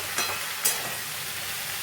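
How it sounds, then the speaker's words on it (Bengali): Onion stalks and potatoes fry gently in a pan with a soft, steady sizzling hiss, broken by two brief utensil clicks near the start. "হালকা হালকা করে ভাজবো যতক্ষণ না পেঁয়াজ কলিটা একটু কাঁচা ভাবটা কেটে যাচ্ছে।"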